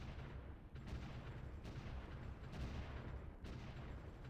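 Artillery shells landing in the World War I strategy game Supreme Ruler: The Great War, a faint, rumbling barrage with several distinct booms spaced a second or so apart.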